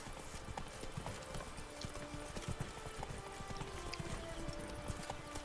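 Horse hooves clip-clop steadily in a rhythmic trot in The Witcher 3: Wild Hunt (Blood and Wine), the quiet, continuous footfalls loud and close with no talking.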